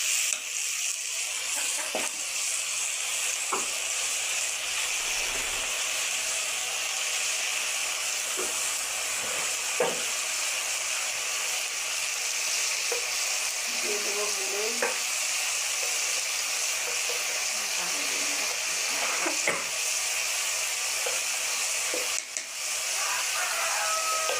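Curry with green chillies sizzles steadily in a pan, a continuous bright hiss broken by occasional scraping and clinking taps of a stirring spoon, with no talking.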